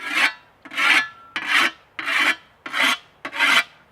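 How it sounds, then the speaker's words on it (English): A whetstone is drawn along a scythe blade in six steady, evenly spaced rasping strokes, each a bright, close scraping swish followed by a brief pause, with no talking. "I've got a whetstone here, and while I'm working, every 10-15 minutes I sharpen it a little bit"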